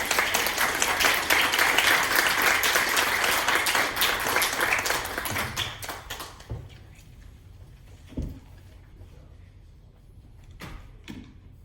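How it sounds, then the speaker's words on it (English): Veterans Day gathering applauding speaker Jacob: full crowd clapping for about six seconds, then fading to a few scattered claps, with a couple of isolated thumps and knocks in a quiet room afterward. "I'll give Jacob a round of applause."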